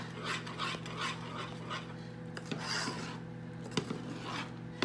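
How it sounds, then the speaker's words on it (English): Steady scraping and rasping of a spoon rapidly stirring thick, boiling fudge in a pan, continuous with occasional sharper clicks against the metal. "So just going to keep rapidly stirring."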